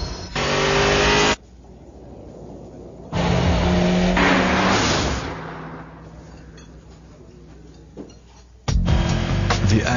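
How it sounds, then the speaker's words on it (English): Acura RSX Type S car with 210 horsepower, its engine revving hard in loud bursts that rise and fall, with short pauses between pulls. "The Acura RSX Type S, now with 210 horsepower. You'll know it when you hear it."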